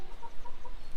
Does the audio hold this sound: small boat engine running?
no